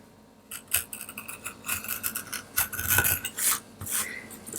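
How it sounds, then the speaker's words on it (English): Craft knife trimming excess tape from the edge of a wooden coaster, a series of short scraping, rasping strokes in quick irregular bursts, close and fairly clear, with no talk. "cut off the excess tape"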